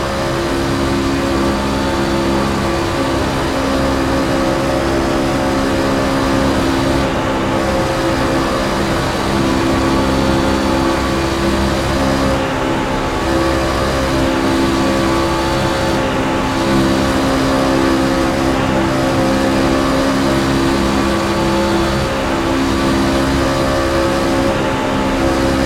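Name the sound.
racing trucks at Daytona going into the corner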